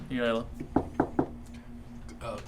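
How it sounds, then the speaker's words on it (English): Three quick, evenly spaced knocks land on a door, close and distinct, with a person speaking just before and after. "you hear a knock at the door"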